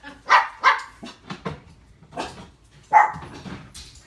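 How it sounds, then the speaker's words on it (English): Dogs bark in a home kitchen, several sharp close barks in a quick irregular burst, a pause, then another loud bark followed by softer yips. "I need somebody to come get the dogs."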